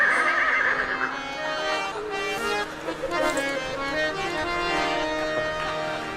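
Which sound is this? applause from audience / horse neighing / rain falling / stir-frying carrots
horse neighing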